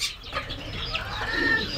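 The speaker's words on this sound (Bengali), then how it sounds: "কতটা কিউট, কতটা সুন্দর মুরগি বাচ্চাটা" Small chirps from a fancy-breed chicken chick of an unusual colour, hatched from a blue egg, rising here and there over a short stretch of faint background noise, with no talking.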